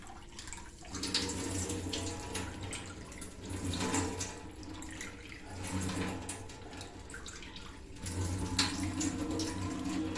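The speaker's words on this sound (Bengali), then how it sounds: "এই যে পোস্তটা ভিজে রেখেছিলাম, এটা একটু ছেঁকে ধুয়ে ছেঁকে নিই।" Running tap water pours steadily into a sink as soaked poppy seeds are rinsed and strained, a continuous close splashing with slight shifts in flow and no talk.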